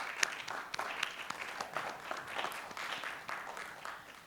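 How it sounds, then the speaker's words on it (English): An audience in a movie theater applauding, a dense wash of clapping that swells and holds at moderate volume, with a few sharper claps standing out near the front. "So let's give them a round of applause."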